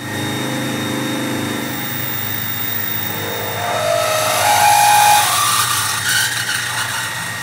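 CNC milling machine drilling an aluminum workpiece with an 11 mm drill bit at about 1500 RPM, a steady mechanical whine and hum that grows brighter and louder midway as the bit cuts, with no talk.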